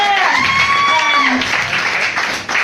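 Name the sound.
audience applause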